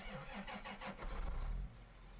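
Buggy vehicle engine in Farming Simulator 17, a quiet mid-pitched motor that starts with a few pulsing chugs, then settles into a steady low rumble before easing off.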